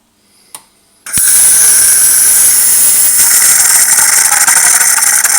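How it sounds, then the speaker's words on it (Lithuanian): A click, then a loud, steady hissing rush as a Saeco Lirika Plus coffee machine dispenses hot water through its spout, continuing without a break. "Norėdami įsijungti karštą vandenį ir pasidaryti arbatą arba sultinį, spaudžiate žemesnį mygtuką"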